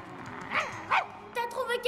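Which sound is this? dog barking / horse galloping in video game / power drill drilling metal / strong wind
dog barking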